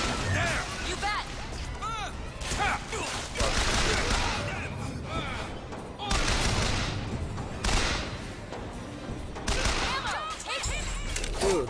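Rapid gunfire bursts and crashing impacts from a first-person shooter game, BioShock Infinite, dense and loud throughout, with someone talking over the combat.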